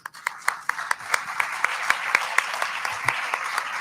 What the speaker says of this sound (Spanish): Recibimos a todos con un fuerte aplauso.